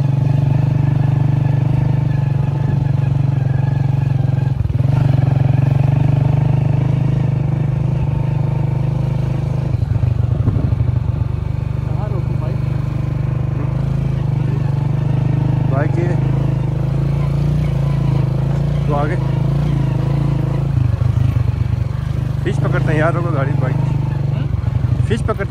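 Motorcycle ride beside Katpana Lake in Skardu, a steady engine drone running throughout with occasional shifts in pitch, with people talking over it.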